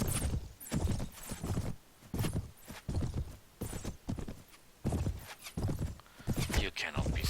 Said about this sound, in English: Come on, Neverville Charger, you're a horse. Act like it.